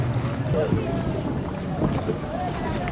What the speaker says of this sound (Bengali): সামনে কত বোট বোট থেকে যে নামবো বোটটা লাগানোর মতো জায়গা পাচ্ছে না